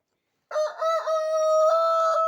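A rooster crows loudly and close by at a chicken coop in the evening, one long drawn-out call with no other sounds around it.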